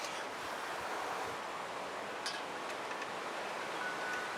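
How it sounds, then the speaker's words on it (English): Wind blowing outdoors on a cold day, a steady broadband rush with gusty buffeting on the microphone, continuous and fairly loud with no speech. "I think the wind came up"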